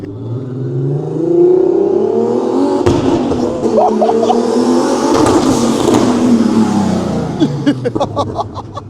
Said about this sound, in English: That turbo now.